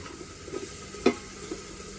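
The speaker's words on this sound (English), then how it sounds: "I'm going to put everything but the garlic in there of the vegetables that I'm planning to saute." Vegetables sauté in a pan at a lakeside campsite, a steady soft sizzle with a few stirring scrapes and one sharper clatter, close and moderately quiet, no talking.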